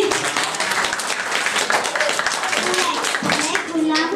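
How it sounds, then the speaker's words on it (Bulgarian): Children clapping in a first-grade classroom during a school letters celebration, a loud burst of brisk, uneven applause with young voices mixed in throughout. "Аплодисменти."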